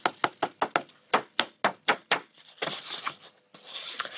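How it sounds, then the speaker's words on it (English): Sharp taps on a surface while excess dry texture material is knocked off a glued area of a tree-texture craft piece, a quick run of about nine close knocks followed by softer scattered rustling and brushing. "and then tap off the excess"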